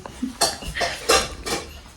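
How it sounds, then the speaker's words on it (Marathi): Dishes and utensils clatter and clink several times in quick, uneven bursts, close by, with no talking. "इकडं आजीचं चाललंय भांडी लावायचं काम"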